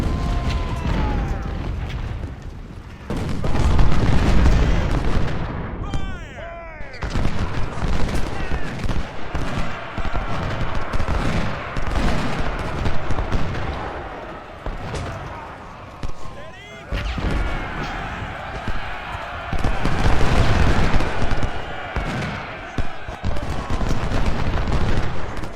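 Musket volleys and gunfire from a brigade firing in the Civil War strategy game Ultimate General Civil War, at the Port Republic battle: dense repeated crackling shots and booms over several seconds, with talk running over them.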